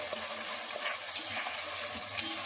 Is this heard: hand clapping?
no